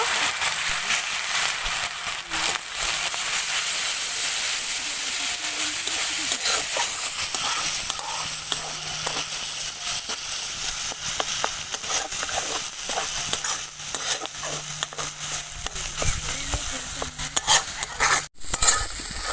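Ground cumin and turmeric with a splash of water are fried and stirred in a pan, making a continuous hissing sizzle with frequent scraping strokes of a spoon against the metal.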